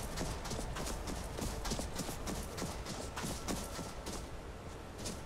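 Horse hooves clip-clopping in Skyrim, a rapid rhythmic patter of close, steady steps running through the whole stretch over a busy game soundscape.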